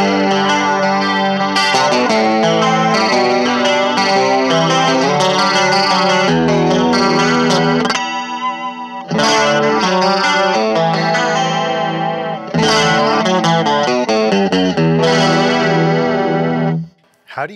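Electric guitar played through an inexpensive chorus pedal, a continuous run of shimmering, chorused chords and notes with a couple of brief pauses, loud and close.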